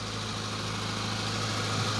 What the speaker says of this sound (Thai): ระบบของเครื่องยนต์ถือว่า เงียบอยู่